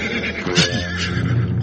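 Horses whinny and snort as a group of riders approaches, loud and close over a dense, continuous backdrop of hooves and movement.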